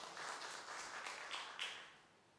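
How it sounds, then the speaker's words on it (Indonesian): Congregation at a Sunday worship service clapping for God, a faint, brief round of applause from a crowd that rises and fades over a couple of seconds with no talk. "Yang setuju tepuk tangan buat Tuhan kita"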